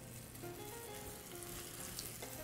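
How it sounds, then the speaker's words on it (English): Battered fish pan-fries steadily in hot oil, a continuous crackling sizzle with no voices. "and then into the dry batter, and straight into the hot oil."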